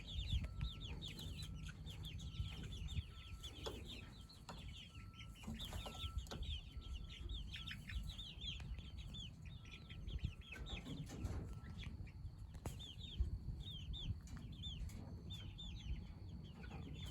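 Chickens cluck and chatter continuously outdoors, a flock of soft overlapping calls at moderate distance, with some higher bird calls mixed into the low ambient background.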